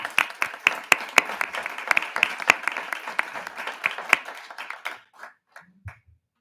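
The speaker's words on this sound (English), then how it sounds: "A round of applause for these individuals." Sparse applause at a board of education meeting honoring volunteers, a small group clapping in distinct individual claps that thin out and stop near the end, followed by a few faint sounds.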